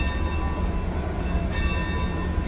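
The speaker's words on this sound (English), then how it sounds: "You want to ring the bell?" The bell of Santa Fe 4-8-4 ATSF 3751, a steam locomotive, rings steadily over a constant low rumble of the engine.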